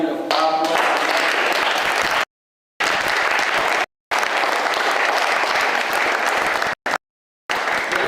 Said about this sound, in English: can we give a hand of applause?